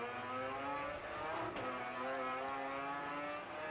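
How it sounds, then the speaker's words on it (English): A race car in an Improved Production round roars past at a racetrack, its loud engine note sweeping steadily through the whole stretch, with a brief Doppler-like shift near the middle and no talk over it. "Here's the next man coming through, Ben Shoots"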